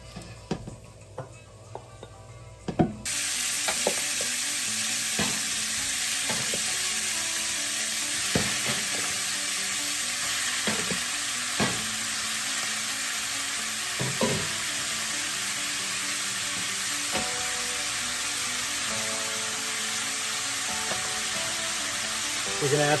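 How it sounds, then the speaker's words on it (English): Beef browns in bacon fat in a pan for a bouf bourguignon, giving off a steady, bright sizzle. Soft clicks and stirring knocks come now and then under the frying. "we're gonna transfer our beef on here with the oil of the bacon until basically it's brown on all sides"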